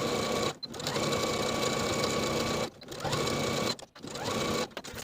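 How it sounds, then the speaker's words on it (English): A sewing machine top stitches a folded fabric edge in several bursts of rapid, even stitching, close and clear, separated by short stops. "Then I'll top stitch that folded edge in place from one side all the way to the other, stitching close to my finishing stitches."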